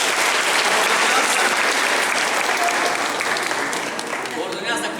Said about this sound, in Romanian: Vă rog să o aplaudați.